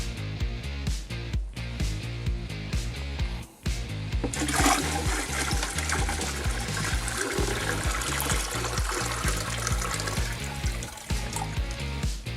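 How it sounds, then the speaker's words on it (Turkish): Rested tap water poured into a home aquarium during a water change, a steady loud rush and splash of liquid hitting water that continues without a break, close by and alone. "Ama genelde belli bir noktaya dökmeye özen gösterin dinlenmiş suları."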